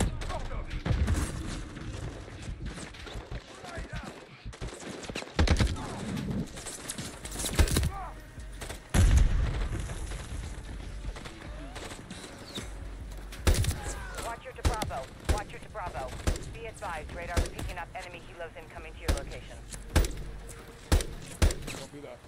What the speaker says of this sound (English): Light up everything that moves, but we take Nolan alive.